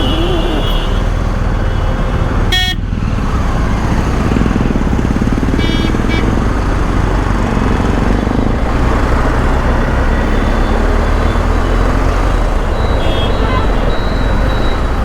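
A borrowed motorcycle ridden slowly in road traffic, giving a loud continuous engine and road roar close to the rider, with wind noise and a brief sharp sound early on.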